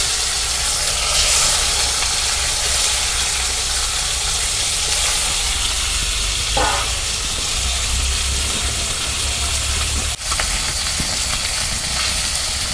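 Onions and fish frying in hot oil for a Bangladeshi tomato rupchanda curry give a loud, continuous sizzle throughout, with a soft stir midway and a brief clatter near the end.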